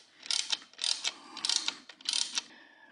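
A socket ratchet clicks in four short rapid bursts while tightening a bolt on an engine case protector of an Aprilia Tuono V4 motorcycle, close and fairly clear with no talk.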